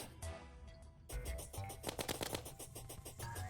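Gun firing meteor shots in Terraria hard mode, a rapid run of loud, punchy electronic shots in quick succession, with game music and effects layered underneath.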